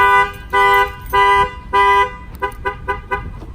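A Clifford 3105X car alarm blares close and loud, first in four long sustained tones, then breaking into a faster run of short chirping bursts.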